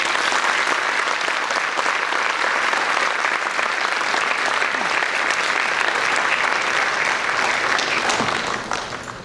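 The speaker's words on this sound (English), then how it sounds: "let's have one more round of applause for our" Sustained applause from a large audience at the 2015 Wayne Hills National Honor Society induction ceremony, dense and steady throughout before trailing off near the end.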